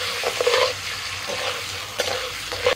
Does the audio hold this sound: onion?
yes